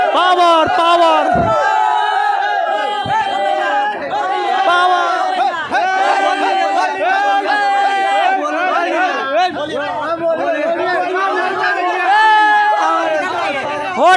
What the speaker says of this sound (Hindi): बहुत ही ज्यादा भीड़ है, बहुत ही ज्यादा।